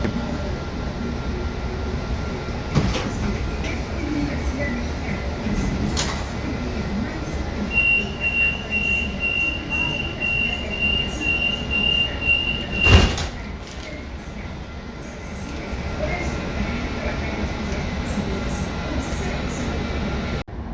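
Steady rumble and rattle inside a moving suburban commuter train in Mexico, with a faint whistling tone in the middle and a sharp clunk partway through.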